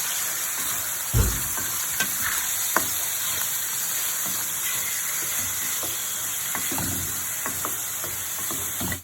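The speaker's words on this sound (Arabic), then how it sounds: "بعد ما حطينا الزيت اهو واتعمل على النار هنحط الفراخ الاول مش البصل" Chicken pieces fry in hot oil in a pan on the stove, giving a steady close sizzling hiss broken by a few sharp pops and utensil knocks.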